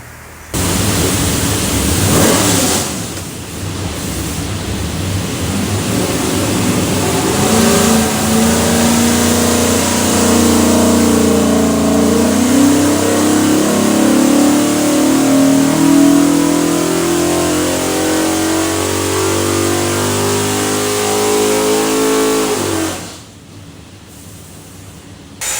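A 560 HP LS airboat engine with a Holley front end on a dyno, roaring loud and rising steadily in pitch through a long sustained pull, then cutting off abruptly near the end.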